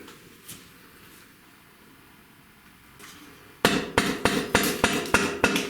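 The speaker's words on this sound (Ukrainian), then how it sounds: "Це гумовий молоток, але краще через ганчірку." A rubber mallet knocks on a Shimano Hollowtech II bicycle crank arm. After a quiet stretch come about eight sharp, evenly spaced taps, close and loud.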